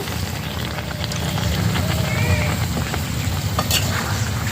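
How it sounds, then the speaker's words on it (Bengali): Water goes into a pan of cooked-down chicken with tomato, which sizzles loudly. Crackling and hissing stay steady and close throughout. "চিকেন কষানো হয়ে গেছে, এখন দিয়ে দিচ্ছি জল।"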